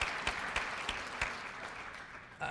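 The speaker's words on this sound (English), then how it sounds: "Give her a round of applause." Applause from a labor union convention audience for a speaker's wife, a soft, distant wash of clapping with a few sharper claps standing out.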